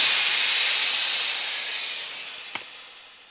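Deodorant spray propellant hisses into a tire, a loud, steady airy rush that slowly fades over a few seconds, with one faint tap near the end.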